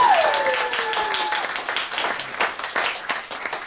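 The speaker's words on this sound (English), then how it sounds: "Could you please give another big round of applause to my comedy cohort in crime" Comedy show audience applauding at a Red Dwarf anniversary stage show, a dense spatter of clapping that starts strong and slowly thins over a few seconds, with a sustained tone sliding down at the start.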